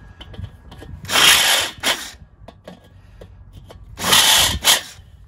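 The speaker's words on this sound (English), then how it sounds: "You can also take the deburr tool like this." A deburring tool scrapes burrs off a metal Weber kettle grill hinge, giving two pairs of close, harsh scraping strokes separated by quieter clicks and handling noise.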